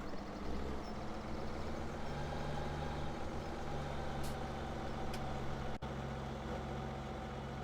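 A truck or tractor in Farming Simulator 17 idles and rumbles steadily while backing up to a trailer, with a low engine drone throughout and a brief hiss-like burst near the end.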